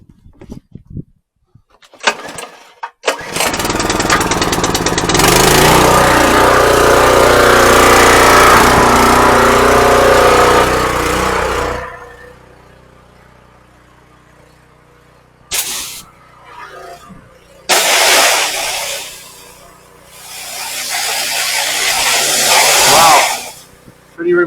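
A 1934 Plymouth PE engine cranks and catches on choke, then runs at a loud steady idle for several seconds before cutting off, followed by shorter bursts of running noise close by.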